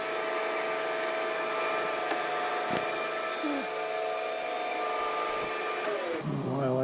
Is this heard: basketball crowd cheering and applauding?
no